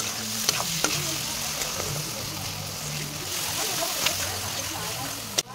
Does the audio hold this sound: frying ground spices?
yes